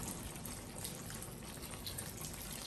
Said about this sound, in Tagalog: kaya magdadagdag na tayo ng tubig.